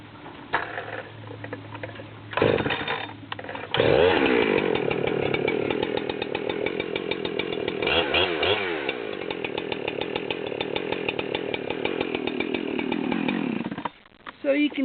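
Two stock chainsaws, a Jonsered CS2166 and a Husqvarna 372XP X-Torq, cut through wood with loud, close, sustained high-revving buzzing and slight dips in pitch as they bog into the cut, and the engines drop off near the end. A voice is heard briefly.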